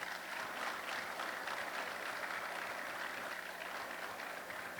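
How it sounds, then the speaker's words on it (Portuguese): Audience applause at an awards ceremony for supplier companies at the Mec Show 2025 trade fair, a steady dense clapping from a large crowd lasting throughout without letting up. "Eu peço uma salva de palmas para a persistência dessas empresas"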